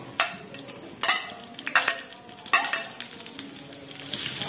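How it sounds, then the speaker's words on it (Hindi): Green chillies fry in hot oil in a pan on a gas stove, a steady light sizzle broken by several sharp stirring clatters and scrapes close by, with no talk. "तेल डालने के बाद हरी मिर्च डाल दीजिए।"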